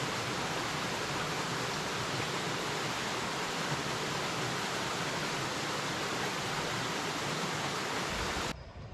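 Eagle Creek flows steadily as a broad, constant rush of water heard up close along a backpacking trail near Fontana Lake, ending abruptly.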